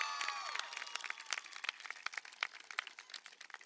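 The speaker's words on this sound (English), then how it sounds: "Go give us a round of applause" A graduating class and crowd at a high school graduation ceremony applaud and cheer, sounding distant and faint across a large venue, with scattered claps and a high whistle near the start.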